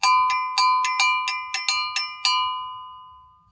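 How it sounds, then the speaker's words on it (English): Nine metallic bell strikes in an uneven rhythm, bright and ringing with clear overtones, then a fading decay into silence. "These are the agogo bells."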